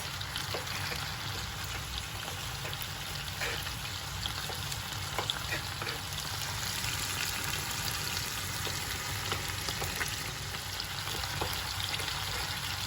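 Chicken pieces frying in a pan, a steady close sizzle and crackle with scattered small pops, continuous throughout and fairly quiet.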